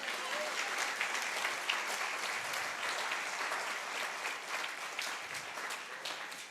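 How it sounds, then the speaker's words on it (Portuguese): Steady applause from a church congregation during a sermon, heard fairly faint and distant, continuous clapping without a break. "Se você pode, aplauda Jesus aí nessa hora."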